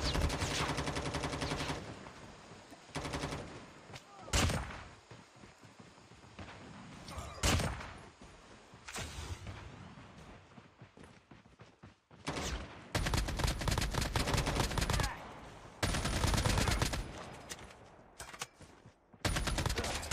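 An AK rifle in the Call of Duty Mobile video game fires in loud, repeated bursts of rapid automatic gunfire, broken by short pauses and brief lulls between volleys.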